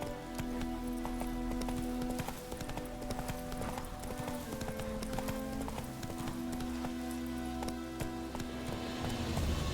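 Roach, the horse in The Witcher 3, gallops in a steady, rapid clip-clop of hooves that runs loud and unbroken, layered over game music and ambient sound.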